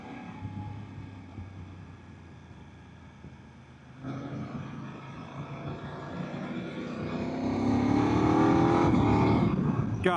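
BMW F800 GS motorcycle engine being ridden with a quick shifter, leaned into corners; a steady drone builds in pitch and loudness with clean shift steps partway through, alone with no talk.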